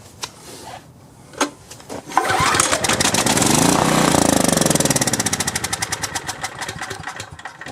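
A small generator engine is pull-started by hand: a few sharp cord tugs, then the motor sputters into a loud, rough run that fades into slowing, uneven chugs as it dies, close by.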